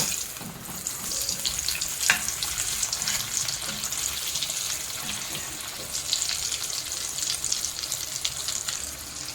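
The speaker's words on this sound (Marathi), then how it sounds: "तेलामध्ये चांगले फ्राय करून घ्यायचे आहे हे बघा एका साईडने फ्राय झालेले आहेत आपण दुसरी साईड प पलटी करून घेऊया" Potato-stuffed green chili fritters (mirchi vada) deep-fry in hot oil and are turned to the other side, producing a close, continuous crackling sizzle with scattered pops and no voices.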